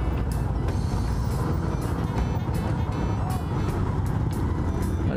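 Steady, loud road traffic noise with a continuous low rumble of cars and larger vehicles passing close by, recorded from within the flow of a congested night street, with faint talk underneath.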